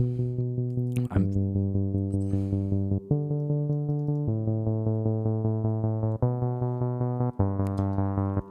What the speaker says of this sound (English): It's almost like a bass line